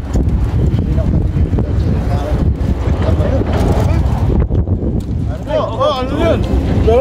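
Strong wind buffets the microphone on high ground, a steady loud rumbling roar with gusts throughout, while voices talk faintly underneath.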